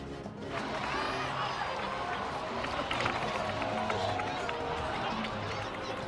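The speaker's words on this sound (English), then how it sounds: "Let's give a huge round of applause to our brave young warrior" Crowd of game characters cheering and applauding for Kachina in Genshin Impact, a steady dense wash of clapping and cheers lasting several seconds, with voices shouting over it.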